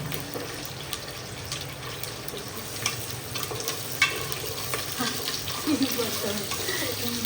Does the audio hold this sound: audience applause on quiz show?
no